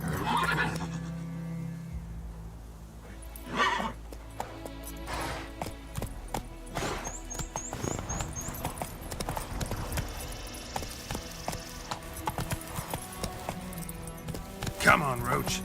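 Roach the horse in The Witcher 3 gallops with steady clip-clop hooves and lets out a couple of sharp neighs, while a player talks over the game sound.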